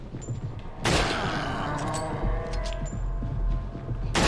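Gunshots in the video game Resident Evil 4, a sharp burst of gunfire followed by a rumbling, reverberant tail, with another crack near the end, set over a low ambient hum.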